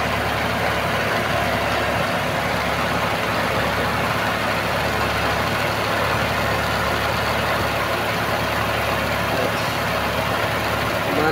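A car engine idles steadily with its air-conditioning compressor clutch engaged after a clearance adjustment, a constant low hum and drone running unbroken and fairly loud throughout.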